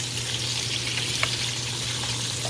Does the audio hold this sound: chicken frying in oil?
yes